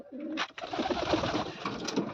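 Racing pigeons coo in a loft, with soft, throaty, overlapping calls that repeat close by and steadily through the whole moment.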